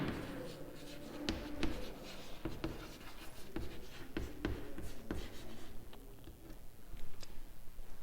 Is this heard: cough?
no